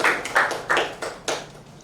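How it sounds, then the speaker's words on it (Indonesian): A few people clap in a small room for a presenter, five or six separate sharp claps in an irregular rhythm that fade quickly, sparse rather than a full ovation. "Kita berikan tepuk tangan untuk Yudi."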